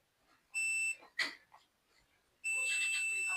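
A multimeter in continuity mode beeps while probing a shorted Samsung Galaxy A12 (A125) phone circuit board: two sustained electronic tones, a short one then a longer one, with a faint click between.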